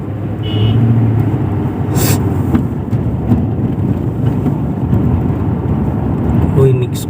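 Busy morning road traffic in Kuwait: a loud, continuous rumble of passing vehicles with a few brief tonal blips rising above the steady roar.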